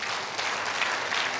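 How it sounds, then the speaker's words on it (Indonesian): Church congregation applauding at a morning prayer service, a steady dense wash of clapping that holds evenly for the full moment with no voices over it. "tepuk tangan"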